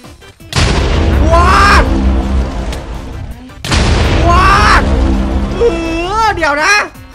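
Bombs released in a Minecraft squid game datapack set off two long, loud, booming explosions, each rumbling and slowly dying away, with a voice speaking excitedly near the end.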